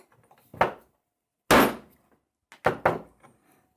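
A steel die stamp is struck with a hammer to mark a number into a solid steel key, giving three sharp, ringing metallic blows spaced about a second apart, close and loud against near silence.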